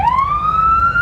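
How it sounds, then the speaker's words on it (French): Rising electronic siren wail from a Humvee, a single continuous tone sweeping upward and then holding steady, loud and close over a low engine rumble. "On a une sirène."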